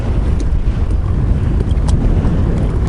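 A strong northeast monsoon wind blows over the sea during kayak fishing, producing constant loud roaring buffets against the microphone with low rumble and splashing water beneath.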